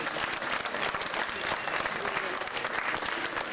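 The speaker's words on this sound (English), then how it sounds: "Could you give the Java members a big round of applause, please?" An audience applauds the members of the Java group at an event, a dense, loud, continuous wash of clapping with crowd noise mixed in throughout.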